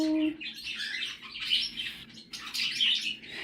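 Several baby birds, six and seven days old, chirp during closed leg banding: a busy, high, fairly loud chatter of overlapping peeps, close by and continuous, with no talking.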